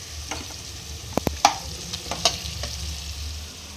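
Chicken biryani sizzles in hot oil as it is stirred, a steady frying hiss broken by a few close metallic spoon clinks and scrapes against the pot.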